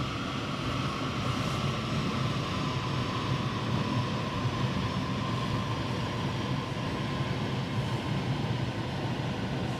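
A 2020 VW T6.1 2.0 TDI van coasts down on a dyno after a run, producing a steady, fairly faint roller and drivetrain drone with no speech.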